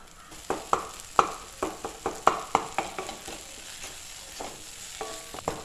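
Onion and tomato sizzle in a pan while a spoon stirs them, making rhythmic scraping knocks over a constant soft frying hiss, close and moderately quiet, with no speech.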